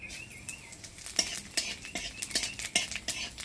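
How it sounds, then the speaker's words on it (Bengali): Whole cumin seeds and cardamom pods frying in a little oil, a faint sizzle beneath repeated metallic scrapes and clinks of a spoon stirring in the pan. "তো আমি অল্প তেল দিয়ে কয়েকটা গোটা এলাচ আর অল্প জিরা ভাজে নেব।"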